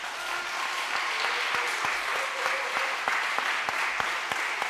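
A church congregation claps in welcome for a speaker at a Friday evening service. The applause is soft and fairly distant, and a few individual claps stand out sharply above the steady patter.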